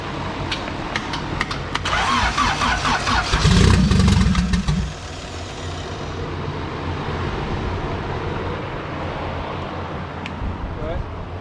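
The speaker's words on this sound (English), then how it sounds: "Just start it, go ahead." A turbocharged Vitara D16 engine in a Minime EF hatch with a GTX3576R turbo fires up for the first time, cranking and catching into a loud burst before settling to a rough idle. People talk over it.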